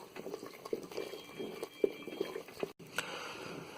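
Milk bubbling in a pot while Kashmiri goshtaba is prepared, a soft irregular patter of small pops and simmering liquid, fairly faint, with a brief spoon knock near the end.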